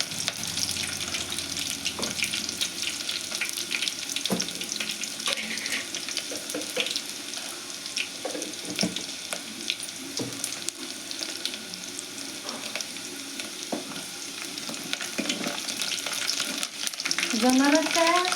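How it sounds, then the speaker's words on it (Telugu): Chopped onion pieces and three dried red chillies fry in hot oil, a steady crackling sizzle with occasional stirring scrapes and clinks throughout. "ఉల్లిగడ్డ ముక్కలు వేస్తున్నాను. ఎండుమిర్చి వేస్తున్నానండి, ఒక 3."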